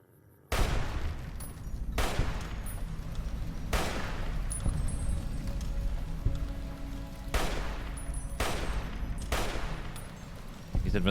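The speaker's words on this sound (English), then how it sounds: "Kind of cool to actually get like a view of a character shooting" A character in Fallout New Vegas fires weapons, producing loud, sharp shots that repeat every second or two over a continuous rumble of battle noise, with some shots coming in quick pairs.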